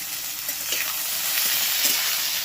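Onion, crushed garlic and green chili frying together in a pan, a dense, even sizzle, close and steady, with a few soft stirring scrapes and no voices.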